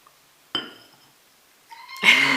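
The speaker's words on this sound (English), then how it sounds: "I told you my cat would probably meow." A pet cat meows near a chair indoors, two short separate calls, the second louder and longer, with quiet gaps between them.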